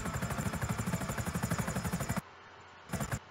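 Helicopter in the video game GTA, a steady pulsing rotor thrum with dense throbbing beats, cutting out abruptly to near silence before a short burst of rotor noise returns near the end.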